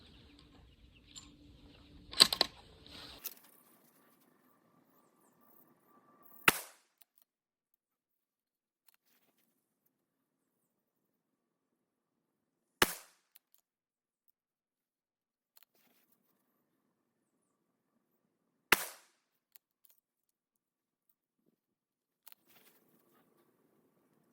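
A Shooters World heavy pistol in 300 Blackout fires 150 grain rounds, sounding as three sharp, well-spaced single shots after a brief burst of shuffling noise, with quiet gaps between them.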